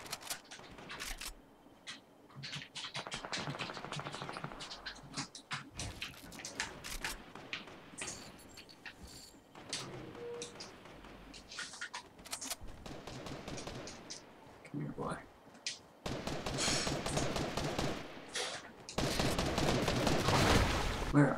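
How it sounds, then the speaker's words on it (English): Gunfire in the video game Fortnite, aimed at a shark, with scattered shots and bursts through the stretch that grow denser and louder toward the end, mixed with other game sounds and talk. "Why are they shooting at the shark?"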